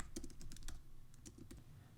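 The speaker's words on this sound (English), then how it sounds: "So we're going to start typing this in." Rapid, uneven keystrokes on a computer keyboard as an address is entered into an online form, close and clear, with short bursts of clicks and a few brief pauses.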